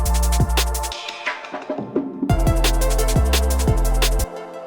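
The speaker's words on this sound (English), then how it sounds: "I've automated a filter to go downwards during it." Amen break drum fill in a drum and bass track with an automated low-pass filter sweeping downward, so the busy, punchy breakbeat darkens and muffles before the full-bright loop returns with heavy sub-bass; loud, no voices.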